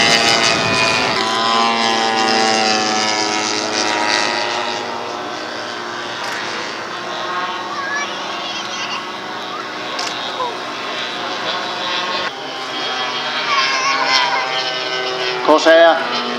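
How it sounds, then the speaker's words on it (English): Several petrol-engined model aircraft, including a Corsair, flying together at the East Kirkby airshow give off a continuous layered engine drone with a rising and falling pitch. A voice talks over it throughout. "So we have 6 petrol engines in the air,"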